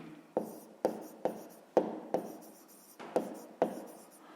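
A pen writes out a fifth-grade math solution on paper, about eight sharp stroke onsets with brief scratchy tails, close and fairly quiet, with no talking.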